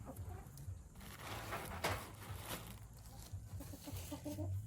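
Chickens cluck in a backyard coop and run, with soft, scattered clucks and murmurs close by over a low background at fairly quiet level.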